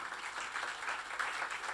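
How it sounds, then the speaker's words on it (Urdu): Church congregation applauding, a faint, steady patter of many hands clapping from a distance over a brief moment. "آئیں خدا یسوع مسیح کے لیے زوردار تالیاں بجائیں گے"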